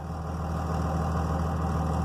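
A 24-valve Cummins diesel engine idles steadily, a low, even rumble with a constant throb and no changes in speed, heard close and alone.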